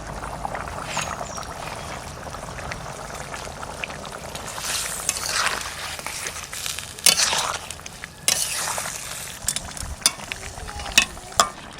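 Rohu fish pieces fry with green chillies in a pan, a soft constant sizzle with spatula scrapes and stirs growing louder and more frequent toward the end.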